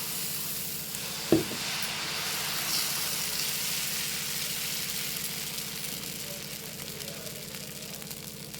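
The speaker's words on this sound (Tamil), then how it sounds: "தோசை ஊற்றிக்கலாம்." Dosa batter poured onto a hot pan gives a steady, quiet sizzle and crackle after a brief sharp clatter near the start.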